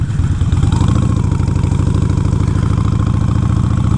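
A Harley-Davidson Nightster motorcycle engine idles close by, a loud, steady throbbing rumble with a mechanical clatter and no talking.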